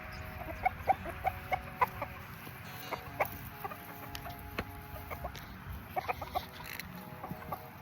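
A backyard flock of chickens clucks and murmurs as they gather for pieces of cantaloupe, with scattered short calls from several birds at close to moderate distance over a soft outdoor background.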